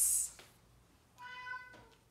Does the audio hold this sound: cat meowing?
yes